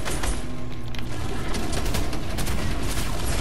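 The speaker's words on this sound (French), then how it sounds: "Des balles." Gunfire in the Fortnite video game rattles in a dense, continuous burst of rapid shots, loud and close throughout.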